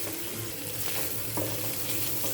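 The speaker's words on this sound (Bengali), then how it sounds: "লবণ হলুদ দিয়ে কিছু চিংড়ি মাছ ভেজে নিব।" Shrimp frying in a pan with salt and turmeric gives a steady, close sizzle that crackles on without pause, with no voices over it.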